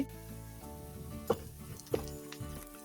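Black cumin seeds frying in a pan for a kalijira bhorta, a soft low sizzle with a few sharp clinks or pops, under background music.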